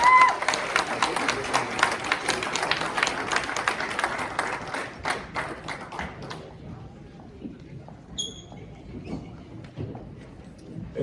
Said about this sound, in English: a nice round of applause for Bob Bruce and the Shadow